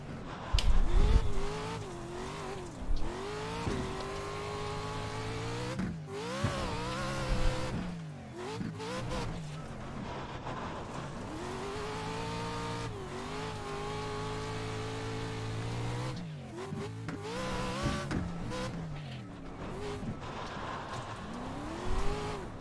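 An off-road truck engine in the iRacing simulator roars at full throttle, a loud sustained revving drone with rising and falling pitch sweeps that runs almost continuously, briefly dipping and climbing again as the throttle shifts.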